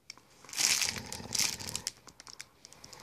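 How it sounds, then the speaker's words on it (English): A plastic bag crinkles and rustles up close in two louder bursts, then softer scattered crackles, with no talk. "It's just a plastic bag."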